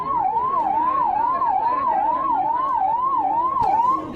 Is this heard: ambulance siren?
yes